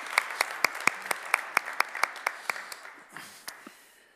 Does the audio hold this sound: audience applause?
yes